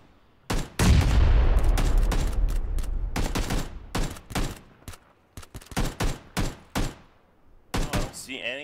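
Gunfire in PUBG as players shoot into bushes: a heavy burst of rapid shots at first, then a string of separate sharp single shots spaced about half a second apart, loud and close.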